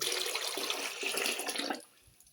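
Cooled rice starch water poured from a bowl into a bucket, a close, steady splashing pour lasting under two seconds before stopping abruptly.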